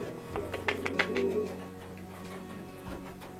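A competition songbird calls in short, close bursts of chirps and coos, fairly quiet against a faint background.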